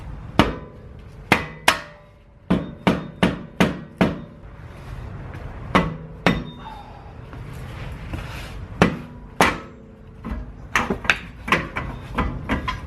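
Hammer blows persuading a stuck wheel hub off a Nissan 350Z during a hydraulic handbrake install: loud, close metallic strikes in irregular bursts, some in quick runs, over a low garage background.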